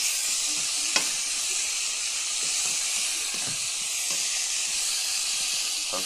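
Cajun seasoning being stirred into chicken sizzling in a pan, giving a steady loud hiss of frying with scattered scraping clicks from the stirring and no talking.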